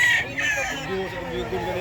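A rooster crows loudly and close by at a chicken sale in Mantalungon, Barili, Cebu, with strained, drawn-out calls and clucking over a busy background where people talk.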